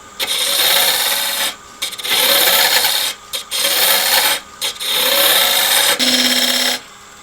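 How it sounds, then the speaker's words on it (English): Spindle gouge taking very light cuts on elm wood spinning on a lathe while removing the tenon of a lidded box, a loud rasping scrape in several long passes separated by brief pauses. "Just using the spindle gouge now to take very light cuts and just take away the tenon on the top here."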